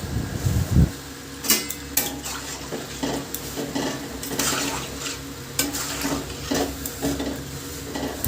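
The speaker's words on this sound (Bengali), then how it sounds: "তারপর ভালো করে নেড়ে চেড়ে নেব" Tangra fish curry with turmeric and salt being stirred in a pan, clinking and scraping of a spoon against metal over a soft sizzle, close and fairly loud in irregular bursts.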